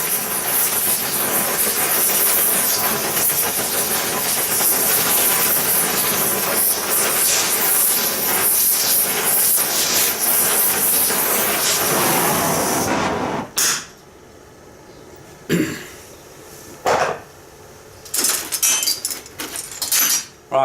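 An oxyacetylene torch heats a steel V block in a workshop, a loud, steady, broadband roaring hiss lasting about thirteen seconds before it cuts off, followed by a few short, sharp bursts of hiss in the quieter stretch.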